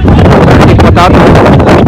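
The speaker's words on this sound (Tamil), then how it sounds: "விண்ட் இருக்கு, ஆஃப் சைட்ல விண்ட் இருக்கு" Strong wind at an outdoor cricket ground buffeting the microphone, a loud continuous roaring rush with gusty surges, heard beneath a commentator's voice.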